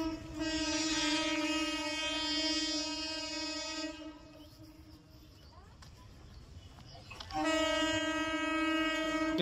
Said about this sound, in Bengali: ট্রেন এসে গেছে অলরেডি।